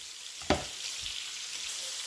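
Diced bacon lardons browning in a pan for a beef bourguignon, giving a steady close sizzle with a sharp utensil knock near the start, and no one speaking.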